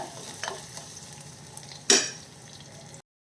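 Ginger garlic paste frying in hot oil over a medium flame for an anchovy fish curry: a steady low sizzle with light stirring, one sharp utensil clink, then sudden silence.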